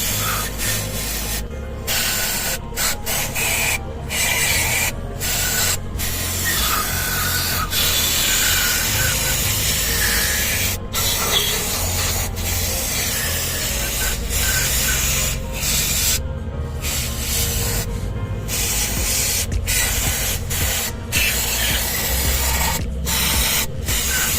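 Pressurised water spray blasts caked mud off the wheel of a Suzuki DA64W 4x2 automatic turbo Sporty Edition, a loud steady hiss broken by brief gaps as the nozzle moves, with no talking.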